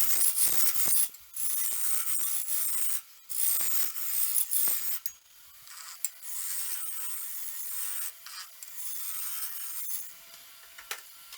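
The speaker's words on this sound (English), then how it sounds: "Mount the sphere blank between centers and turn to a cylinder using a spindle roughing gouge." A wood lathe turns a small sphere blank between centers on a stub drive center while a spindle roughing gouge cuts it toward a cylinder, giving a steady scraping, rasping hiss in repeated passes with brief pauses between them.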